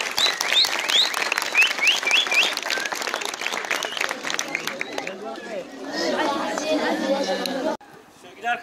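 A school crowd applauds students who passed a quiz, clapping mixed with lively chatter and high whistles or cheers, then fading into a murmuring room before it cuts off.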